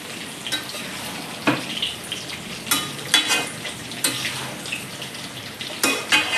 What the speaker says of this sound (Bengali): দেখতেই পাচ্ছ আমি চচ্চড়ি চাপিয়ে দিয়েছি।